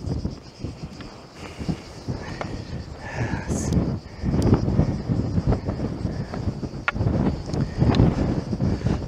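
Strong wind gusting across a 626 m mountain summit by a cross on the island of Hvar, buffeting the microphone in a steady broadband roar that swells louder after a few seconds and stays rough and close throughout.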